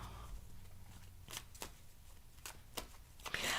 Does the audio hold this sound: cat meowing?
no